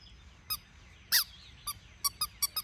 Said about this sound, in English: Maybe I can get her to squeak if I play tug with her.